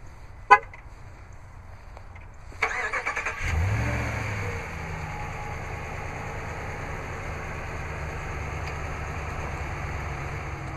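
A sharp beep, then a 2015 RAM 1500 Laramie pickup truck engine cranks and starts by remote start, settling into a steady low idle.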